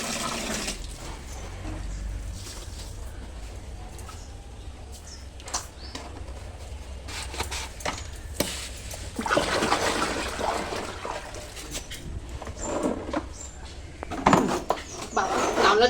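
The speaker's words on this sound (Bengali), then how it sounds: "ওই কাপড় জামাগুলো আমি ভিজিয়ে নিই" Water splashes and trickles as clothes are soaked in an old cracked basin, with irregular sloshes and drips that grow busier and louder toward the end over low background rumble.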